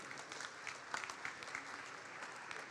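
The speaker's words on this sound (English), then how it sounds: "Give a big round of applause for one more time." A university grand launch audience gives a round of applause, heard as faint, scattered claps that carry on steadily for a few seconds without any talk.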